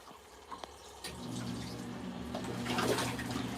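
Hot water rushes steadily into an LG ThinQ MEGA washer drum on a deep wash fill, a continuous splashing hiss with a low hum that grows slightly louder toward the end.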